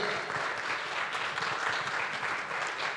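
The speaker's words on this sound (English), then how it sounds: "big round of applause to Rajshree ji and Bramta ji" Audience applause at a Ramayana festival event, continuous dense clapping from a crowd, steady and fairly loud for the whole stretch.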